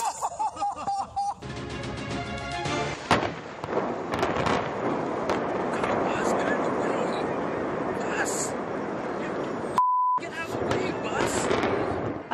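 A house demolition explosion set off during filming produces a sustained, loud roaring rumble that runs for several seconds after a sharp onset, while people talk over the noise.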